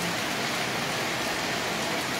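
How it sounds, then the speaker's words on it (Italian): Rain falls steadily in the Messina area of Sicily, a dense, even hiss of drops on surfaces that holds without a break and without any voices. "Continua a piovere, guardate un po'."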